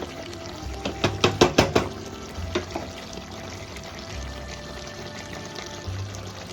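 Hot water is poured into mutton curry, a short burst of splashing pours in quick pulses followed by quieter trickles, close and alone with no talk.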